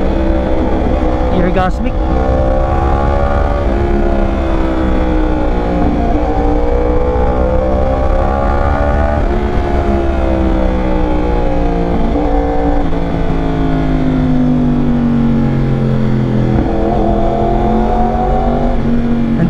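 A 2021 Yamaha R1 sport motorcycle with a very loud aftermarket exhaust revs and rides hard, its engine note rising and falling through gears continuously for the whole stretch, close and dominant, with a brief voice over it.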